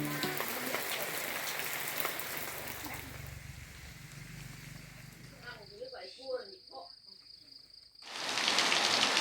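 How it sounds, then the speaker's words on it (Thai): Steady rain hiss fills the first half, then fades as birds chirp in quick bursts with a high insect tone, before loud broadband rain noise returns. "ตอนนี้บรรยากาศยามฝนตกทุกคนเลย"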